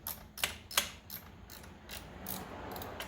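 A 1/4 inch drive ratchet runs small nuts down snug on little studs, giving quick repeated clicking pawl ratchets close by with no talk.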